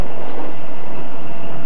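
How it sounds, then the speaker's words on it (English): New British Rail Class 310 electric suburban multiple-unit train running past as a loud, steady roar of wheels and motors, with no voices heard. "These new suburban trains will be running from Euston in 3 months' time"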